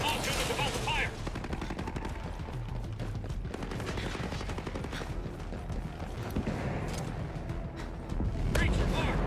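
Rapid game gunfire from Ghost Recon rattles continuously in dense machine-gun bursts and shots, loud and near, with voices talking over the combat throughout.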